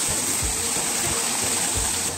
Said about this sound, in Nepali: यहाँ तपाईँलाई झरना देखाउँछु